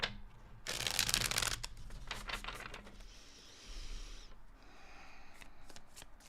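Tarot cards being shuffled by hand, a loud burst of riffling followed by several softer rustling shuffles and taps close to the microphone.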